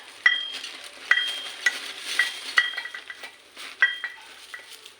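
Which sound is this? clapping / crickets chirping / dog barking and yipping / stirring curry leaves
stirring curry leaves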